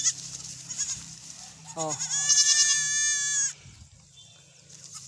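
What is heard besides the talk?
goats bleating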